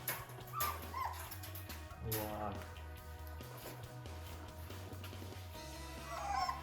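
Three-week-old Malinois puppies whimper, yip and squeal in a busy, overlapping chorus close by, with someone talking over them.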